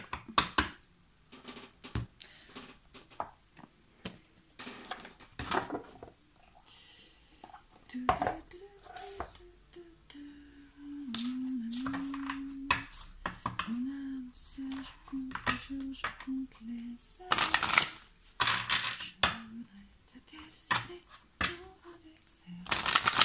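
Oracle advice cards are shuffled by hand in quick irregular bursts of riffling and tapping, close and fairly quiet, with a voice humming or speaking softly between the card sounds.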